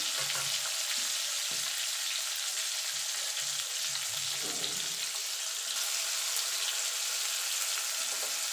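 Chopped tomatoes fry in hot oil for an okra dish cooked without onion or garlic, giving a steady close sizzle throughout while a spoon stirs and scrapes the pan now and then, with no talking.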